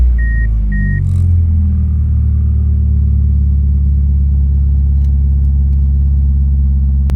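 Two short electronic beeps, then a 1999 Mitsubishi Eclipse GS engine with an idle control sensor fault fires up in neutral and settles into a loud, steady low idle rumble.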